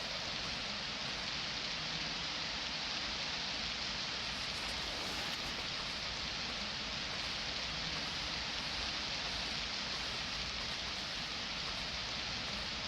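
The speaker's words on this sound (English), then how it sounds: "Nice rain effects. Like the sound and the effects of it on the screen." Steady rain falls in the video game 35MM, a dense even hiss of drops on surfaces, constant and moderately loud throughout with no voices.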